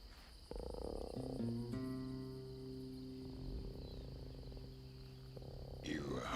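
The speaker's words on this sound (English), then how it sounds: "Tree Frog." A tree frog in an animated story croaks and chirps over sustained tonal backing, fairly faint, continuing steadily with a sharper burst near the end.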